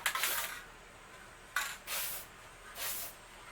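A paint spray can hisses in three short bursts, each a close, bright airy spray of around half a second, separated by brief quiet pauses.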